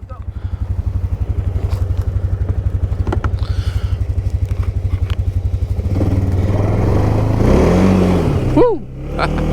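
A Can-Am Outlander ATV engine thrums in a steady, rapid pulsing idle up close, then revs up louder and rougher as it accelerates, with a brief rising whine near the end.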